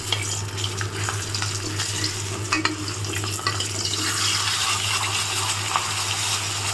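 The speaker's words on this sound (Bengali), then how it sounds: "মাছের মাথাটাকে ভেজে নিচ্ছি।" A fish head fries in oil in a home kitchen pan, giving a steady, dense sizzle that stays close and fairly loud throughout, with occasional clinks and stirring scrapes and no talking.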